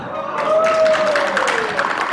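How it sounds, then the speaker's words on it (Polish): Audience applause for a solo woman singer at a patriotic song marathon, a steady dense clapping wash with a sustained tone running underneath. "Brawa dla niej."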